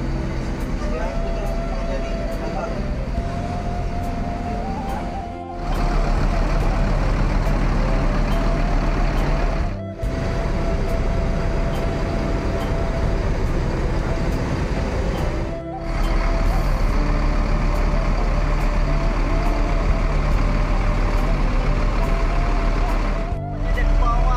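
A plain bus with batik livery idles with a steady, loud low drone, broken by three or four brief dips in the engine noise, and a high tone sits above the rumble.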